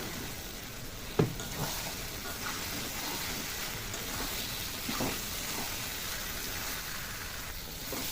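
Chicken balls dropped into a cooked-down spice mix in a pan, giving a soft continuous sizzle with a sharp clink of a utensil early on and occasional stirring scrapes.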